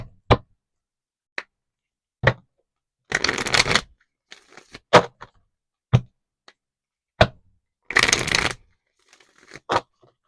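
Tarot cards shuffled by hand in a quiet room give crisp riffles and sharp flicks and taps in an irregular rhythm, close and clear, with no talking.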